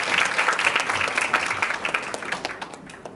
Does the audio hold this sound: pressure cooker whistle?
no